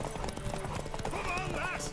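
In The Witcher 3, horse hooves clip-clop in a quick galloping rhythm beneath a voiced shout, ending with a short whinny, the hoofbeats close and fairly loud.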